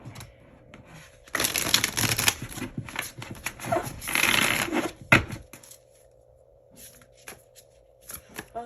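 Tarot cards being shuffled by hand, two long riffling bursts close up followed by a few sharp card snaps and taps, against a quiet room hum.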